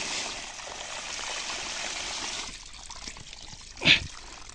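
Water hisses and trickles steadily from a leaking irrigation pipe on a farm, close by. The flow eases partway through and is followed by a short splash.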